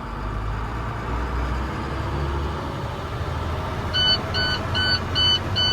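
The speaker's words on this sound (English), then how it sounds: "That's why that light just came on and that little alarm." Low fuel warning alarm in an International 4300 digger derrick truck: about five short, evenly spaced electronic beeps near the end, heard over the steady rumble of the truck's engine and road noise.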